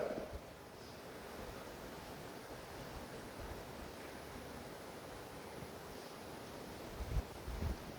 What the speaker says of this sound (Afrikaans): dit reën daar buite